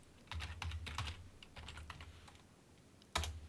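Quick bursts of keystrokes clatter on a computer keyboard as text goes into a web browser, faint and close, with short pauses between runs of typing.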